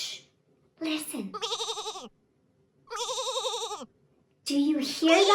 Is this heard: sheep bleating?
yes